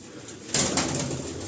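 A pigeon on a rooftop loft of pet pigeons gives a soft coo after a quiet start, with faint rustling and wing movement around it, close and moderately loud.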